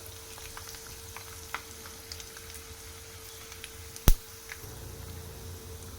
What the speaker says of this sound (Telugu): ఆవాలు ఫ్రై అయిన తర్వాత ఎండుమిర్చి వేసుకోవాలి